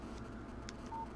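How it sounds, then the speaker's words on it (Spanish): A telephone in the Alan Wake video game gives a brief, soft electronic tone near the end, faint against a steady low ambient hum. "Un teléfono."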